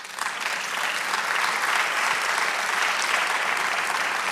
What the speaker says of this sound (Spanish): que déle un aplauso